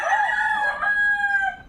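A rooster crows once in a long, drawn-out call near a farmyard where chicks and dogs are kept, clear and fairly loud with no talk over it.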